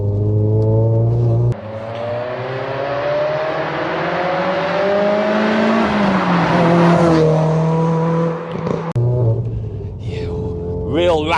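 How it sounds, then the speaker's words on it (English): A Renaultsport Clio 197 F1 R27 accelerates hard along a badly surfaced road, its raspy exhaust rising steadily in pitch through the revs, loud and close, with a brief lift and a gear change near the end. "Real rasp to that exhaust note"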